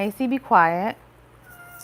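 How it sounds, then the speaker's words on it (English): A cat meows loudly indoors, a few short chirps then a longer drawn-out meow, with a person speaking briefly at the same time before quieter room noise. "That's my cat. If you can hear her,"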